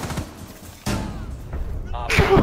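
Gunfire in Rainbow Six Siege comes in sharp bursts, loud and close, with a sudden crack near the middle and more shots at the end, mixed with voices.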